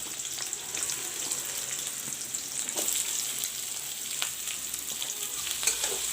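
Onions and cut green chilies fry together in hot oil for an egg bhurji, giving a steady, close sizzle with faint scraping stirs and no talking.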